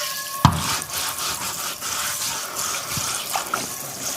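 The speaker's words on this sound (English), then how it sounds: "I gotta wash my cast iron skillet." A cast iron skillet gets washed under a running kitchen tap, water splashing steadily with a sharp clank of the pan early and softer knocks later.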